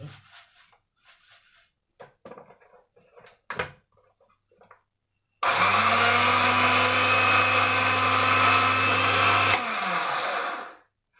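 An electric blender mixing cricket feed starts up abruptly after a few scattered knocks and clatters, then whirs loud and steady for about four seconds before winding down to silence.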